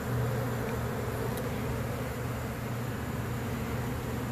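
Honeybees swarm and buzz around a backyard hive near a tree in Tampa, Florida, during a removal; a dense, steady outdoor drone fills the whole stretch with no talking.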